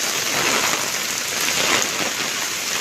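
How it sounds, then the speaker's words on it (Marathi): Heavy monsoon rain in Mumbai pours down hard in a dense, unbroken hiss and patter, loud and close. "पाऊस बघा केवढा जोरात पडतोय"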